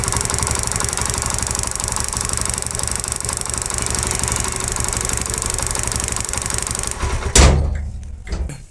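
Motorcycle with no fan capacitor fitted, engine running at a loud, steady close idle for several seconds before it abruptly cuts off, followed by a few faint knocks.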